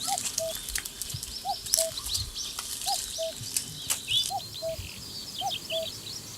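A cuckoo repeats its clear two-note call about five times at an even pace, moderately near, while other small birds chirp and twitter in the background.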